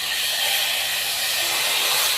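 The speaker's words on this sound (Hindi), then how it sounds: "अब हम दाल के ऊपर तड़का लगा देंगे।" Hot tadka poured over mixed daal sizzles with a loud, continuous, bright hiss that stays even from start to finish.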